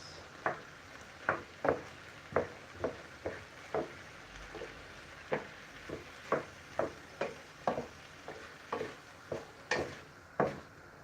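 Pasta with chicken stirred in a pan, a spoon scraping in a steady series of about twenty soft strokes over a faint sizzle, close and fairly quiet with no talking.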